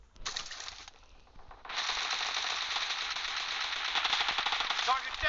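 Rapid automatic gunfire from PUBG Mobile in a hangar-style match, a dense continuous burst that pauses briefly then resumes louder and sustained for several seconds, close and prominent, with faint talk underneath.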